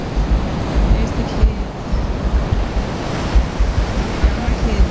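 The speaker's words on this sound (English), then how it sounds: "Now we're out here at the beach." Ocean surf rolls in continuously at Myrtle Beach, South Carolina, with steady wind buffeting the microphone, producing a loud, broad wash with rhythmic surges of breaking waves throughout.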